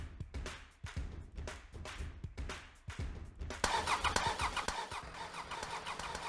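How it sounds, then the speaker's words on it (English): Engine-driven pumps are cranked: repeated rhythmic starter churning is heard, then the engines catch and run with a brighter, rougher running roar, moderately loud and close. "It then selects 3 pumps to crank up."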